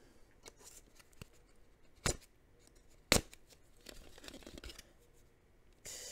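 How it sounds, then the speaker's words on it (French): Quiet scraping and slicing as a scalpel cuts through packaging tape, with two sharp crisp snaps and soft rustling between them, near and alone. "Alors, je vais essayer avec un scalpel."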